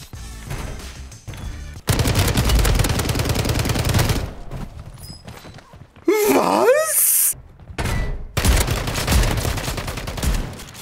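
Gunfire from an STG-44 rifle in the Warzone video game, loud bursts of rapid shots that break off and resume, with a player's voice wailing and groaning between the volleys.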